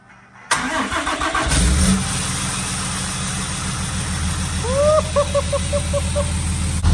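A heavy Cummins diesel truck engine with its exhaust removed cranks, then fires up into a loud, low rumbling idle that settles into a steady throb, with a brief chirping sound partway through.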